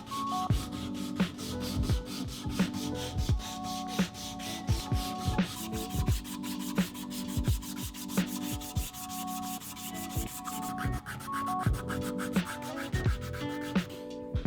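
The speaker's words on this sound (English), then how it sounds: "I'm using a 1x30 belt to start hand sanding." Hand sanding knife handle scales with a 1x30 sanding belt, rhythmic rasping strokes repeated steadily and close, each stroke a gritty scrape with no talking.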